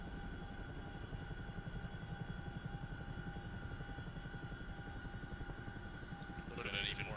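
A Chinook helicopter in the DCS World flight simulator flies steadily, its rotor thump and engine whine forming a continuous drone throughout, with a brief higher-pitched burst near the end.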